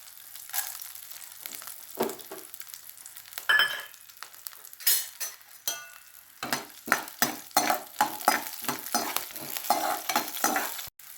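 Chana dal and ginger being stir-fried in a pan for guava chutney, with a scraping spoon giving a steady run of quick scrapes and stirs over a soft background sizzle, heard up close with no talking.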